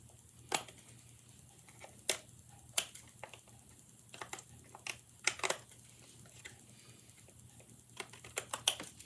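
Scissors snip paper snowflake pieces off the edge of a greeting card, giving faint, scattered crisp clicks at irregular intervals in a quiet room.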